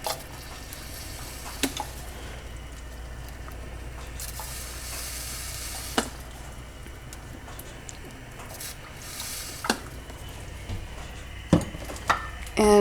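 Soft steady simmering and stirring of lentil tortilla soup in a pot, a low continuous hiss with occasional utensil knocks and a few sharp clinks near the end.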